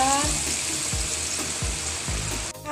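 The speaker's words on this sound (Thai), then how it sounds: "เดี๋ยวเราเจียวให้เหลืองเลยนะคะ" Shallots fry in hot oil for a Thai pork chili paste, giving a dense, continuous close-up sizzle with a few soft stirring scrapes in a steady rhythm.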